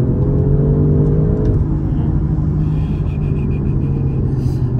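An Audi RS7 cruising from inside the cabin, with a steady low engine rumble and road drone that holds smooth and even throughout, fairly loud and close.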